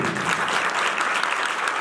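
A church congregation gives loud, dense, sustained applause, many hands clapping together with a few faint voices mixed in.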